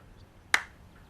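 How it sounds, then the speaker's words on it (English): A single sharp hand clap rings out once, close and crisp, in an otherwise quiet room, given to wake someone from hypnosis. "When I clap my hands, you'll be awake"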